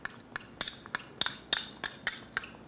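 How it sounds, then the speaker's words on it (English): A metal tasting spoon clinks and scrapes against a container of chopped garlic, about ten quick regular taps in a steady rhythm, close and fairly loud. "Use my tasting spoon to get that out of there"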